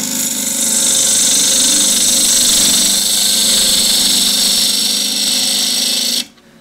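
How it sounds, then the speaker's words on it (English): Wood lathe cutting a curve in a cross-grain box with a half-inch spindle gouge: a steady, loud, close hiss and whir of the tool on spinning wood, running unbroken for about six seconds, then stopping abruptly. "So I'm just going to cut the curve again using the half inch spindle gouge again."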